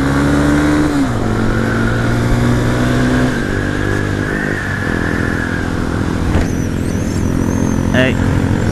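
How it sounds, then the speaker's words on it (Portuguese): A loud motorcycle with straight pipe exhaust accelerates and revs in city traffic, its throaty engine roar dropping and rising in pitch, with people talking over it. "Aquela moto tá só o cano,"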